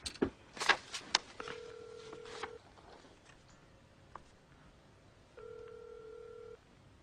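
A desk telephone being dialed to call a cab company: several sharp clicks and key presses, then steady dual-pitch touch-tone beeps, a pause, and another sustained tone pair, fairly close and clear with no talking.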